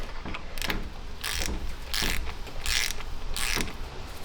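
A torque wrench ratchets in short clicking bursts while tightening timing chain bolts to 20 foot-pounds on an abandoned budget Camaro, close up, with several bright clicks spaced about every second over a low background hum.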